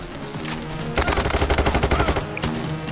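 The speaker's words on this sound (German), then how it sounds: "ich finde die Sounds von den Waffen finde ich top, wirklich" Rapid automatic gunfire from a weapon in the heist shooter PAYDAY 3, a dense burst of roughly a dozen loud, evenly spaced shots lasting over a second, framed by quieter single reports and game ambience before and after.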